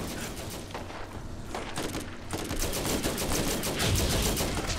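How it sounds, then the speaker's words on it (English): Turret gunfire in the Borderlands video game, a dense stream of rapid shots and explosive bursts that keeps building in intensity and stays loud throughout without talk. "Matt, I'm putting a turret up."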